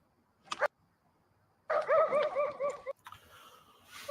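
Aggressive dog barking from inside a fenced yard: a short bark, a pause, then a run of loud, close, harmonic barks and yelps, followed by quieter outdoor noise.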